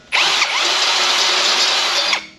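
A power tool cleans welding slag off metal in one continuous burst of high-pitched whirring grind, loud and close, spinning up abruptly and winding down after about two seconds.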